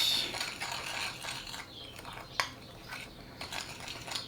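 Ground meat and paprika being stirred together in a bowl, a soft, irregular scraping and clicking of utensil against the bowl with occasional sharper knocks, close and quiet.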